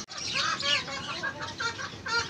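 A brooding native country hen clucks close by in a quick, continuous series of throaty calls, with nothing else heard.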